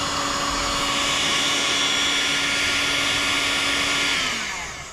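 Heat gun running to shrink heat shrink tubing during extra electrics work on a Jeep, a loud close steady fan roar with a whining tone that holds, then drops in pitch and fades as it switches off.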